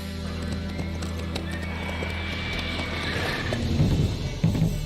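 In The Witcher III, the horse Roach gallops with continuous clip-clop hooves and lets out a whinny, the hoofbeats growing heavier and louder toward the end, with no talking.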